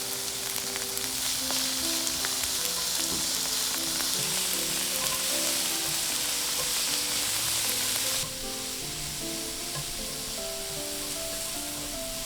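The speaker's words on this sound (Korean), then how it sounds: "센 불에서 볶아냅시다." Zucchini stir-frying in an oiled pan over high heat, a steady loud sizzle with a clattering stir running throughout and the hiss easing slightly near the end.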